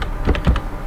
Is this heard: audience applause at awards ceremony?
no